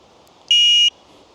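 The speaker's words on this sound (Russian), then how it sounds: "Также у меня вот сигнал есть." A single short electronic beep from an electric bike's alarm signal, shrill and steady, sounding once close by against a quiet background.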